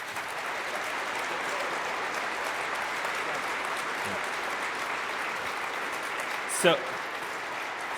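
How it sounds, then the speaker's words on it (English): Sustained audience applause for panel speakers at a men's night event, steady and dense throughout with a brief voice near the end. "Let's give these guys a round of applause."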